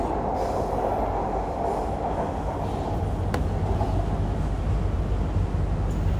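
A Bangkok MRT Purple Line metro train runs between stations, a steady loud rumble of wheels and motors with a faint squeal partway through and no voices.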